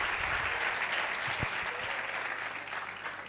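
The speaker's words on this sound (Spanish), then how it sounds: "Fuerte el aplauso para ella." An audience at an environment and livestock panel during a COR'23 meeting applauds moderator Florencia García, with dense, steady clapping that eases off toward the end.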